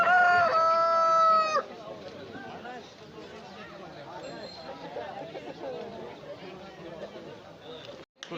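A rooster crows loudly at a bustling poultry market where chickens and turkeys are sold, followed by continuous clucking and crowd chatter with people talking nearby.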